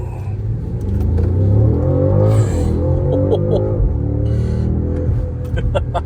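A fast BMW 550i launches hard, its engine and exhaust rising to a loud, sustained roar and rev that swells and holds for several seconds, with faint voices beneath.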